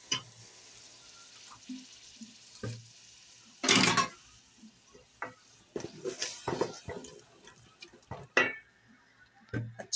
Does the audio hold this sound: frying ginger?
yes